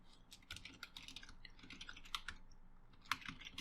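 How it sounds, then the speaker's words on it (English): Rapid, light keystrokes on a computer keyboard patter quietly and continuously, with a few sharper clicks standing out, as a description is entered into a calendar appointment slot. "type whatever description that I want"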